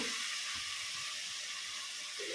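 Tomatoes sautéing in oil for veg biryani make a faint, steady sizzling hiss that carries on without a break for the whole stretch.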